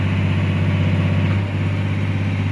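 A Caterpillar 345 excavator engine runs steadily under load with a deep, constant drone and a strong low hum, close and loud, with barely any change in pitch.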